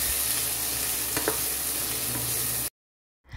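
Garlic and onion sauté steadily in a hot pan, a dense continuous sizzle with occasional stirring scrapes, loud and close, cutting off abruptly into silence near the end before a faint return.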